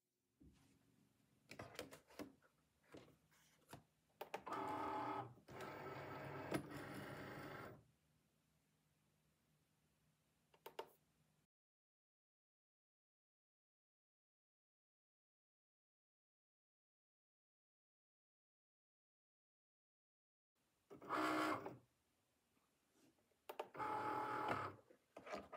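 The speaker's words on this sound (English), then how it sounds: "Now my Cricut light's flashing, so let me go ahead and record this cutting." Cricut cutting machine working through glitter cardstock for rhinestone templates: close mechanical whirring and buzzing passes with clicks and pauses, a long silent gap, then more motor runs.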